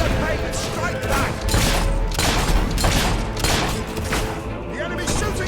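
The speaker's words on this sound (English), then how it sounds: "The enemy's shooting at us!" Enemy gunfire in Fable III rages as a dense, continuous volley of shots and booms, loud and close throughout with little pause, with voices mixed into the din.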